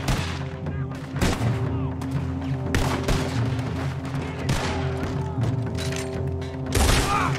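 Gunfire in Red Dead Redemption 2, a shootout with repeated sharp shots and booming reports in irregular bursts over several seconds, loud and close, with some talk underneath.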